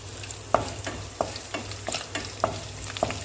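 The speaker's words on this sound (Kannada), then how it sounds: "ಇದಕ್ಕಿವಾಗ ನಾನು ಸ್ವಲ್ಪ ಕರಿಬೇವು, ಹಾಗೆ ನಾನು ಆವಾಗಲೇ ಹಚ್ಚಿಟ್ಕೊಂಡಿದ್ನಲ್ಲ ಮೆಣಸಿನಕಾಯಿನ ಹಾಕ್ತೀನಿ" Curry leaves and chopped chillies fry in a pan for an Andhra-style methi dal, a steady sizzle punctuated by several sharp scraping taps of a spoon stirring against the pan, close and fairly loud with no voices.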